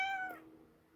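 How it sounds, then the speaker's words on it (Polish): A short, high cartoonish cat meow from the Toca Boca video game, a single clear tonal call that fades quickly into quiet background. "Luna to jest ten kotek"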